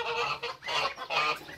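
Farmyard ducks call up close in three loud, harsh, honking quack bursts separated by brief pauses, with no talking.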